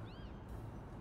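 A cartoon cat meows in the video game Little Kitty Big City, a short rising-and-falling meow over a steady game background hum.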